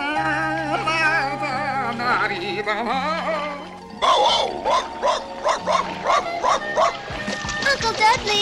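An animated cartoon dog barks in a quick run of about eight to ten sharp, bright yips after a stretch of cartoon music, loud and up front in the mix.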